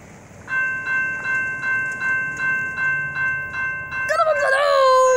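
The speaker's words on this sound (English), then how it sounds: "You better hurry if he wants to beat this train." A railroad crossing bell dings in a steady, regular rhythm on Martz Road, then a nearby train's horn blares loudly at the end, with people talking excitedly over it.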